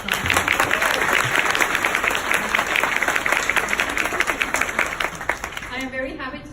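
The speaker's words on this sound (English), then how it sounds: "So please applaud for yourself." A crowd at a senior dinner applauds steadily with dense clapping, loud and sustained, fading near the end as a voice begins speaking.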